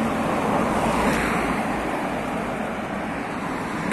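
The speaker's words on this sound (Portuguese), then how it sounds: "Beira da praia, em cima da areia" Ocean waves wash steadily onto the sandy shore at Orla Norte, Porto Seguro, Bahia, a continuous broad roar of surf with some wind buffeting the microphone and no voices.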